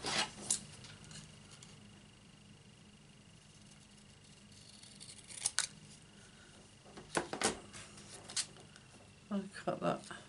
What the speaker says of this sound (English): cut it, which I'm going to use big scissors.